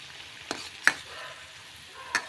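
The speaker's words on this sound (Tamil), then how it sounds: "பொரியட்டும்." Rava milk paniyaram, a South Indian semolina and milk snack, frying in hot oil with a soft, low hiss, broken by a few sharp clicks or taps of a utensil, nearby and quiet.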